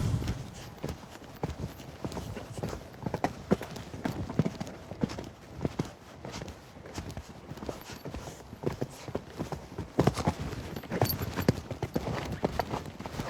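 A horse at a show-jumping schooling session moves over soft footing, its rhythmic hoofbeats thudding close and fairly loud throughout, with a heavier landing near the middle and a rider or trainer speaking French faintly.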